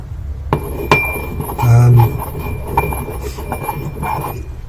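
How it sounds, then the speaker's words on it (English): Material being ground to a fine powder in a mixing bowl: intermittent hard clinks and knocks against the bowl, with a brief scraping stretch in the middle, close and fairly loud. "you're just going to grind it down into a very fine powder"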